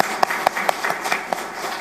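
Audience applause at a detention center graduation ceremony, a brief round of scattered, sharp claps with several distinct loud hits over a soft wash of clapping, with no voices.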